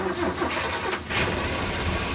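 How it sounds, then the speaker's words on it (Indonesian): Carbureted 1.5-litre engine of a 2004 Suzuki Carry Futura pickup truck being cranked by the starter, which whirs briefly before the engine catches and settles into a loud, close idle. "Berarti untuk nyoba mesin kita starter dulu aja."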